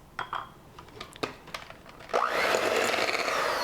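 Electric mixer beating thumbprint cookie dough: a few scattered clicks and knocks, then the motor whirs up at about two seconds into a steady, loud, close drone that runs to the end, with no talk.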